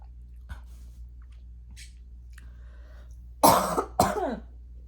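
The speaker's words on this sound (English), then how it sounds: "I'm still coughing a little" Two short, sharp coughs close to the microphone, one right after the other, following a few seconds of near silence.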